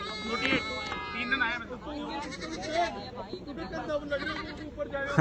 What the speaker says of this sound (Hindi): ग्राउंड पर बकरी भी है तो उसकी आवाज आई हुई।